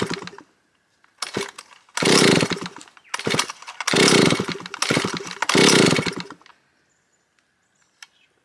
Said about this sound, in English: Let's put a foot on her and crank her over.